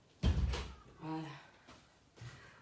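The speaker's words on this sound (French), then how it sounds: "Je vais juste aller fermer la fenêtre parce que les enfants font trop de bruit." A window is shut with a single solid thump, followed by a person talking and a couple of softer knocks.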